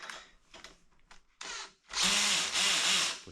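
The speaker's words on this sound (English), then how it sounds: "Need the 5mm hex bit on your drill driver" A power drill driver with a 5mm hex bit whirs in short bursts, then runs in a longer steady spin as it drives a screw while assembling an Ikea Kleppstad double bed, loud and close.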